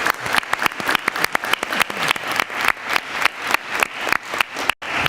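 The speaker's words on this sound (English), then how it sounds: "I want everyone to give a round of applause to Amanda Baumler for organizing this event today" An audience applauds an event organizer at a 2013 candidates forum, steady dense clapping from a crowd filling the room, briefly dropping out near the end.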